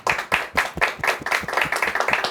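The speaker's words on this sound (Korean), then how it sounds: "먼저 이 시간에 하나님께 감사의 박수 한번 올려드렸으면 좋겠습니다" Rhythmic group clapping in a Chuseok worship service as thanks to God, sharp evenly spaced claps that start slow and quicken, close and clear with no talking.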